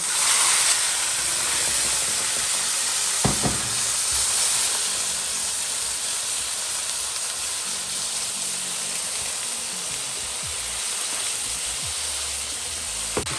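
Chicken liver frying in oil in a pan for homemade pâté gives off a steady, fairly loud sizzling hiss that runs unbroken throughout, with a couple of brief utensil knocks and no talking.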